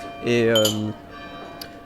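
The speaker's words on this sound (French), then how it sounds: "les cloches sonnent, attention." A church bell rings in a single sustained, resonant stroke with a ringing harmonic tail, fairly loud, followed by faint further chimes and a brief spoken word.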